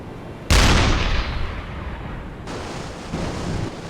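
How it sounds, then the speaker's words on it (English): A loud, close blast from a U-boat's deck gun in the naval game UBOAT erupts suddenly, then rolls into a long fading rumble, followed by a second, softer swell of roaring noise. "A shot where his deck guns were."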